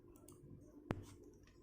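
A single sharp computer mouse click, heard once against a quiet room background while someone works through an inventory admin program on a computer.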